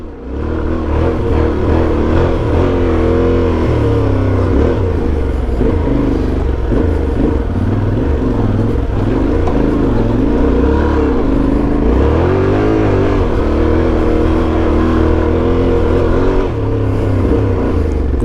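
A group of ten motorcycles rides up toward the Altınoluk plateau, their engines droning loudly and continuously up close, with revving swells and pitch shifts as the bikes climb.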